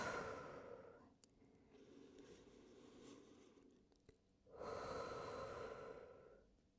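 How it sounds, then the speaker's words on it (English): Two soft, deep exhales through the mouth during a slow yoga flow, one at the start and a longer one near the end, with quiet breathing between them. "fully exhaling through the mouth"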